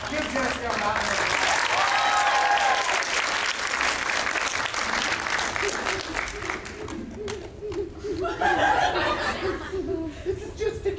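A convention audience at Sakura-con 2014 breaks into loud sustained applause for Jessica during an acting lesson, with scattered laughter mixed in as the clapping fades and rises again near the end.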